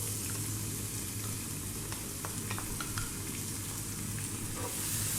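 Cumin seeds sizzling in hot oil over high heat for a lamb shank masala curry, a dense, steady frying hiss with a few light crackles and pops, close and constant.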